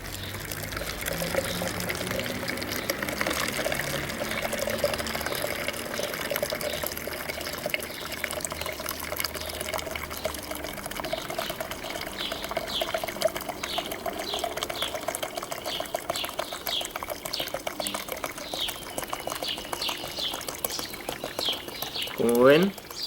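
Hot water is poured into a mixture of rice and copper sulfate, a continuous close splashing pour running for over twenty seconds with a faint voice in the background.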